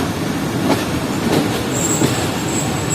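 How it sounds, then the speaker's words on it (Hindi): A passenger train rolls into Kot Lakhpat railway station on the Lahore–Karachi route, its wheels and carriages rumbling steadily and nearby with faint rail clatter and a brief high squeal of the wheels, and no one speaking. "6:27 पर ट्रेन हमारी एंटर हो रही है कोट लखपत रेलवे स्टेशन पर"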